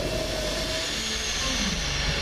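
A ScotRail train pulls away from Glasgow High Street station with a steady low rumble and rising motor whine, loud and close, with no voices.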